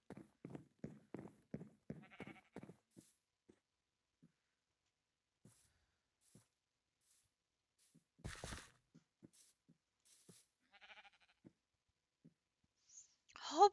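Sheep in Minecraft bleating in a short series of soft, repeated calls, followed by sparse quiet clicks and a few faint noises in an otherwise near-silent game scene.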